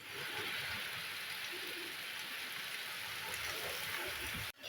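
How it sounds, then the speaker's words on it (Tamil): Steady rain falls outdoors with gusting wind, a dense, constant hiss at even loudness throughout, cutting out briefly near the end, no voices. "திடீர்னு பார்த்தீங்கன்னா மழை துளிகள் வேறு ஆரம்பிச்சிருச்சு"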